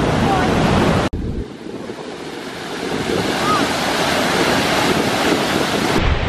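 Turquoise waterfall in New Zealand pouring steadily with a loud, broad rushing roar close by, briefly cut off then continuing unbroken, with some wind buffeting the microphone.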